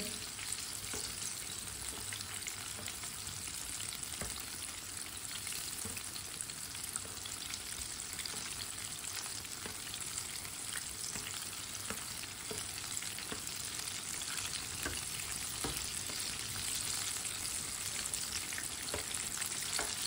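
Pakoras fry in hot oil in a pan with a steady, even sizzle and crackle that runs on close by, with no talk over it.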